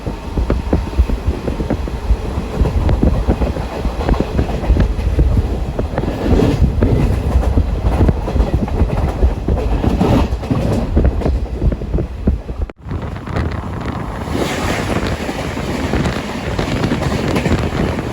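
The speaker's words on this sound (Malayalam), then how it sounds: "ഈ ട്രെയിൻ ഒരു 80 km/h സ്പീഡിൽ കയറുമ്പം തന്നെ നല്ല രീതിയിൽ വൈബ്രേഷനാണ്." Aboard the Jan Shatabdi Express between Thiruvananthapuram and Ernakulam at around 80 km/h, a loud continuous rumble of wheels and vibration on the rails fills the carriage, with one brief dip in the middle.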